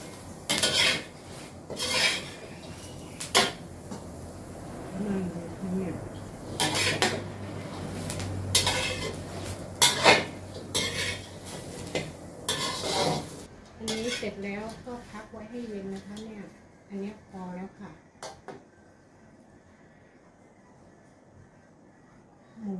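Dry-roasting jackfruit with dried chillies in a pan: repeated scraping and clattering of a utensil against the pan, fairly close, with bursts of stirring, a faint voice in places and quieter, sparser scrapes toward the end.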